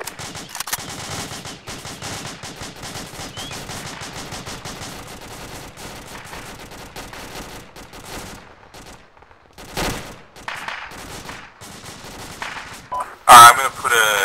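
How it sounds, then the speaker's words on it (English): Rapid bursts of video game gunfire crackle continuously at a moderate distance in an Arma military sim, with occasional louder shots and people talking over it. "Sounds like some gunfire close-ish to the northeast."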